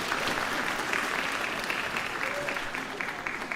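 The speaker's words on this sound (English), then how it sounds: "give them another round of applause" An audience at an eighth grade band and jazz concert gives a sustained round of applause for the jazz ensemble, a dense, even patter of many hands clapping at moderate distance, with faint crowd murmur underneath.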